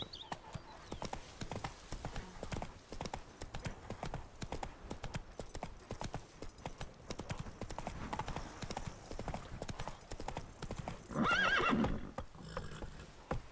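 In The Witcher 3: Blood and Wine, a horse's hooves clip-clop in a steady galloping rhythm over a long stretch, and a loud whinny breaks through near the end, with faint game voices underneath.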